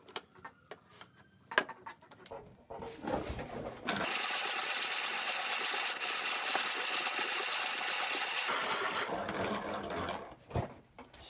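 A 1950s hand-cranked burr coffee grinder grinding coffee beans, a dense steady rasping crunch that runs for several seconds, preceded and followed by scattered clicks and knocks of handling.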